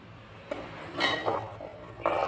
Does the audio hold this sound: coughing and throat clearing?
no